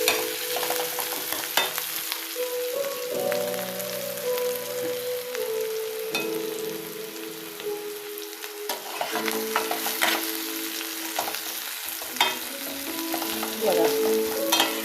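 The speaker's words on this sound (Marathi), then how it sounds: "चिरलेला कांदा आणि मिरची सोबतच घातली." Chopped onion and green chili frying in a pan for masala bread, a continuous close sizzle with occasional spatula clinks and stirring, steady throughout with no talking.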